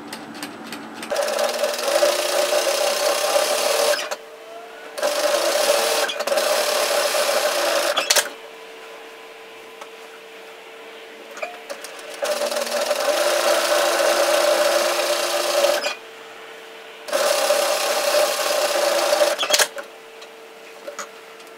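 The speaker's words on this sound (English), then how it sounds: "I'm going to sew 1 row of stitching right in that overlocking line" A sewing machine stitches a row along the overlocked hem of knit fabric, running in several steady bursts of a few seconds each with short quiet pauses between, close and moderately loud with no talking.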